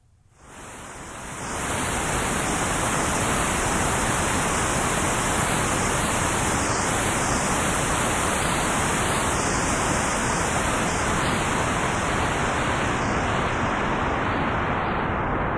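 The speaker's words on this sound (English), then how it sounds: "One type of filter, called a low-pass filter, will modify the white noise according to the variable frequency of the upper cutoff point." Synthesizer white noise shaped by a low-pass filter fades in over the first seconds, then holds as a loud, steady hiss with a slowly wavering upper edge, alone with no voices.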